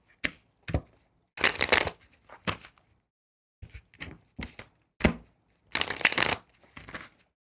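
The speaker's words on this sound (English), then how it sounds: "One more shuffle." Tarot cards being shuffled by hand in a series of separate bursts, some brief riffles and some longer, with short quiet gaps between them and no talking.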